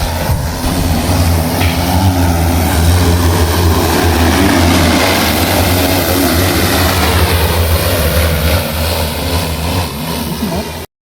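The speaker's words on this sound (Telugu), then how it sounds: "డ్రోన్ కిందికి దిగుతుంది గైస్." An agricultural drone descends in dusty, windy open farmland, its propellers giving a loud, continuous whirring drone that holds steady throughout, with wind noise mixed in.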